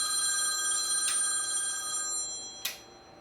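A telephone rings with electronic bell tones in a workshop while a Shimano mechanical disc brake is installed and adjusted, sounding clear and fairly near in repeated bursts with no talk.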